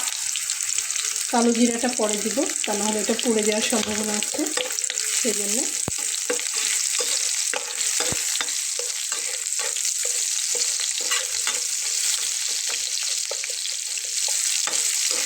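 Onions frying in a pan for a Bengali taro-greens dish with hilsa fish head: a steady, loud, dense sizzle runs throughout, and a voice talks over the first few seconds.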